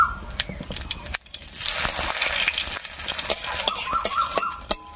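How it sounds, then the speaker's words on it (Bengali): Whole cumin seeds and two bay leaves sizzle in hot mustard oil, a steady close frying hiss with crackles and occasional spoon taps on the pan, no voices. "এবারে তেলের মধ্যে দেবো হাফ চামচ মতো গোটা জিরা আর দুটো তেজপাতা।"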